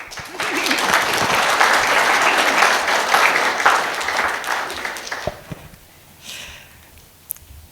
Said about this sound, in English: Oh, trying to clap.